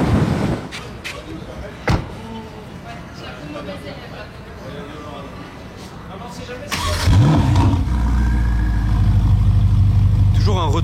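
A warm Ferrari 488 Pista fires up on a Monaco street, its engine catching with a sudden loud burst and a rising roar that settles into a deep, steady idle, following a stretch of quieter street noise with people talking nearby.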